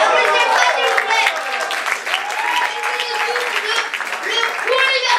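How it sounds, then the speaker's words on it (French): An audience applauds at a live show, with a dense, bright wash of clapping mixed with voices calling and talking over it. "Applaudissez-moi s'il vous plaît."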